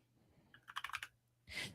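A short burst of typing on a computer keyboard gives a quick run of light, close key clicks. A brief pause follows, then a louder final clack or rustle in a quiet room.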